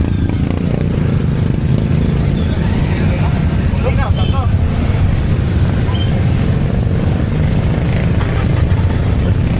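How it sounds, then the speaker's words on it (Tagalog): Heavy road traffic in the rain with tricycles and other vehicles, a steady, close low rumble of engines throughout, with a brief clatter and faint voices in the background. "Grabe traffic, oh."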